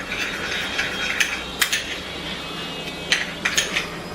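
A spoon stirs honey into a face pack mixture in a small bowl, giving light, irregular clinks and scrapes against the bowl's sides, close and fairly quiet, with no talking.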